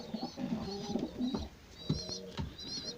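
Homing pigeons in a loft coo in repeated soft, throaty rolling calls, several overlapping phrases close by, with no talking.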